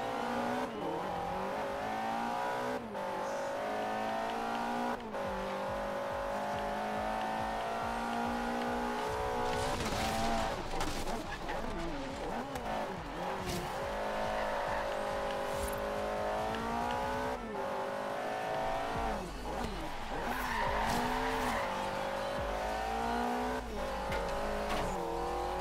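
Ferrari race cars in the racing video game Forza Horizon 3, engines droning and revving steadily throughout with shifting pitch, occasional tire squeal and impact noises as the cars clip obstacles.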